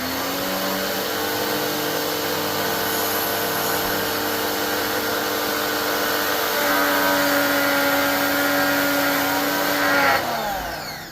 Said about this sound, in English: And then we're going to hit it with the pressure washer.